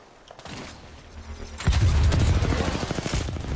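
Rapid automatic gunfire in a shooter video game, starting softly then jumping to a loud, rattling burst of closely spaced shots with a heavy low thump for the last two seconds.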